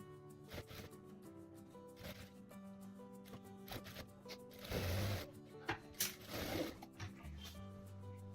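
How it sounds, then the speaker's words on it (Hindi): Sewing machine stitching pleats on a blouse, quiet rhythmic mechanical whirring in short runs with a few louder bursts of rapid stitching and handling noises between, no voices. "अब हम इसे इस तरह से सिलाई मारेंगे दोनों को।"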